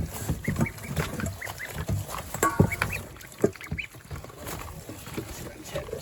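Ducks and other poultry on a homestead call in short honks and quacks, close by and scattered over a farmyard background, with people talking nearby.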